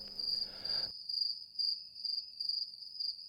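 A brief clatter, then crickets chirping in a steady pulsing rhythm, a thin high trill repeating about twice per second.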